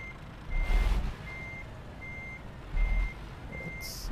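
A Scania 500S truck in Euro Truck Simulator 2 reverses up to a loading ramp, its reversing alarm beeping steadily about five times over a low engine rumble, with two brief louder engine surges.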